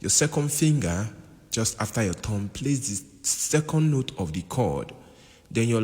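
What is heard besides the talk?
No everyday noises stand out.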